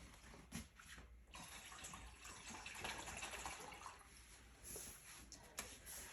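Brita filtered water pours into a dog bowl with a steady, close splashing trickle that swells and dips slightly over several seconds, with no voices.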